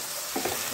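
A brief, soft sizzle of tomato puree stirred into frying masala in a hot pan, with a few gentle scraping stirs.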